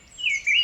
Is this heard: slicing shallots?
no